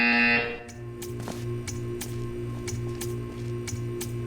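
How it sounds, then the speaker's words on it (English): A loud buzzer in the video game Portal 2 sounds briefly at the start, followed by a steady, regular series of ticking clicks over a low mechanical hum. "You will hear a buzzer. When you hear the buzzer, stare at the art."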